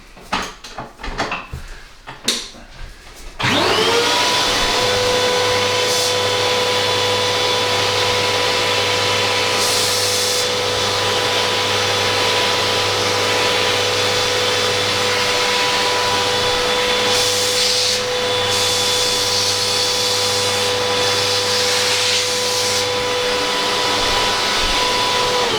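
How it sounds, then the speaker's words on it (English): A small vacuum switches on after a few seconds of light handling noise and runs steadily and loudly for over twenty seconds, cleaning excess grass texture off a winter model railway diorama near the track bed and canal. "so I'm just vacuuming that out."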